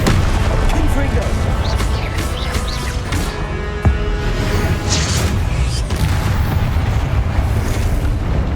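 Confringo fire spell explosion in the video game Hogwarts Legacy: a dense, loud roar of blasts and crashing debris filling the whole stretch, with a sharp burst near the middle and talk mixed in.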